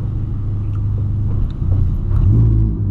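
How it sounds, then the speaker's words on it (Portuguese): Volkswagen Polo fitted with a sport exhaust, a deep low rumbling idle that swells louder toward the end as the engine is revved, heard close and alone. "é muito alto o ronco desse carro, velho"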